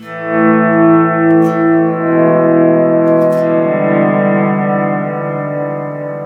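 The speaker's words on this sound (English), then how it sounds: "There's the shimmer sound. I think it's an octave and a fifth." Dense, sustained electric guitar chord washes from a shimmer pedal, with shimmering high layers an octave and a fifth up and long reverb, swelling gently and ringing continuously without pause.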